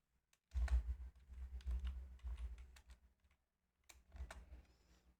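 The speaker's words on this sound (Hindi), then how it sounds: "तो मैं इस पर पासवर्ड डाल देता हूँ।" Someone types an administrator password on a computer keyboard in two quiet bursts of soft key taps separated by a pause.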